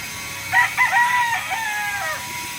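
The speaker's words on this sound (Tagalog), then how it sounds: "nandito ako sa isang backyard para bisitahin dito yung manok nung aking kaibigan na si Dennis." A single fighting rooster crows once in a backyard, a clear nearby call with a stuttering start and a long drawn-out falling end over quiet background hiss.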